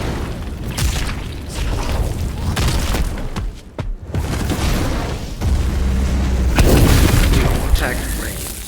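Phantom Shot finisher for Dabi in a video game, a loud cinematic explosion with booming blasts and bursts layered over game effects and music, rising in intensity toward the end.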